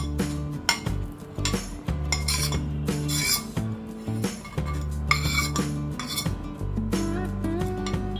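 A spoon stirs and scrapes through a thick amla pickle mixture with mustard-fenugreek powder, tamarind pulp and red chili powder in a metal bowl, producing steady close clinks and rasping scrapes that come and go over several seconds.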